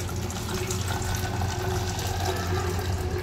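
Water poured out of a bottle during betta fish breeding, a steady continuous splashing rush that stays loud and even throughout with no talk.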